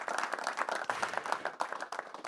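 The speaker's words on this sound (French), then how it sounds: "Vous pouvez les applaudir." Audience clapping steadily for contest winners at a ski season launch evening, dense applause with sharp hand claps, fairly close and continuous for a couple of seconds.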